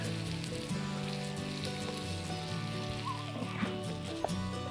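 Meat for plov frying in a pot over a campfire outdoors as water is poured in, giving a steady, dense crackle and sizzle with a few faint pops and no voices.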